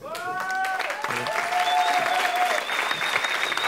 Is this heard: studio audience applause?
yes